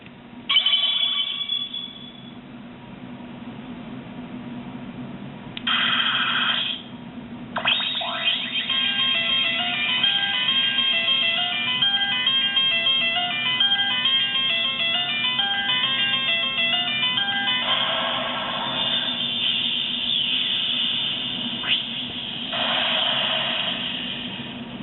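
Proplica Sailor Moon Moon Stick toy plays bright, tinny electronic sound effects through a small speaker: jingling chime bursts and a twinkling melodic sequence, loud and close with a lo-fi, band-limited tone.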